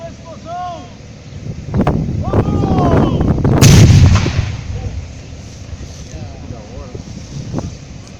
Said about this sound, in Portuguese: foi feita a detonação controlada do artefato